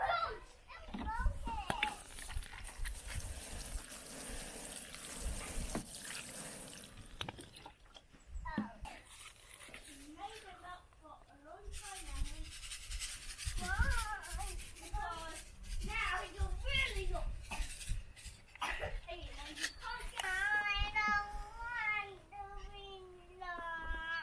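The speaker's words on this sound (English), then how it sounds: "my children squabble in the background" Children squabble in the background of a garden, their raised, whiny voices coming and going in bursts over several seconds amid rustling and handling noises, with some sing-song cries near the end.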